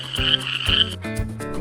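A frog croaks loudly and close up in a few rhythmic bursts of deep, rasping calls with no other sound.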